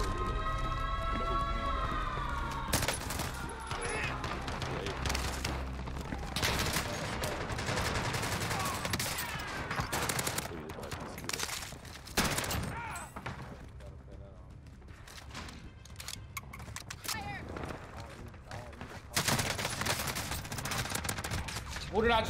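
Gunfire from a P90 submachine gun rattles through a Warzone battle royale match, with loud rapid bursts, scattered distant shots and game effects layered over a steady background soundtrack.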